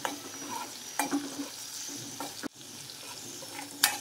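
Bottle gourd curry sizzling in a pan with cumin and coriander powder, a steady low frying hiss broken by a few sharp scrapes and knocks of a stirring spoon.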